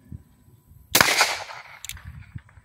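A single shot from an Uberti Cattleman 9mm single-action revolver, a sharp loud crack with a short ringing tail, preceded and followed by faint low background rumble.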